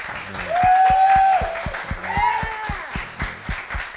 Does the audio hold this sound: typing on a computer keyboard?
no